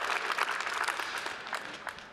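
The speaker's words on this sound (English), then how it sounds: "Let's give the Moda Center a round of applause." Applause from a large conference audience at the Moda Center during a business plan event, a dense, steady wash of many hands clapping throughout, fairly loud and continuous.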